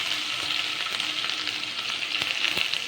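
Finely chopped ginger frying in hot oil, giving a steady, close, dense sizzle with light stirring clicks throughout.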